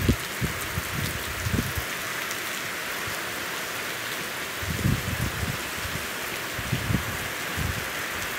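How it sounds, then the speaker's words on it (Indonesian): Heavy rain pours steadily in Linggaindah, a dense, even hiss of water on surfaces with a few low thuds underneath, close and continuous throughout. "hujan deras banget."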